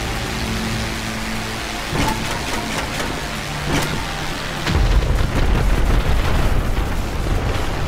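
Bombs dropped from a Seabreeze plane in GTA V Online go off as deep booming blasts, with a couple of thuds early on and then a heavy, sustained rumbling roar that fills the rest.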